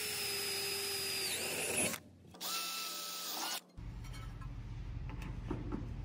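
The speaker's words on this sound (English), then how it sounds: "I'm gonna take a 1/4 inch drill bit and we can just drill straight through that cast" A power drill with a 1/4 inch bit whines at high speed, cutting off briefly and starting again, then gives way to a rougher grinding hum as the bit bites into a cast metal pontoon corner cap.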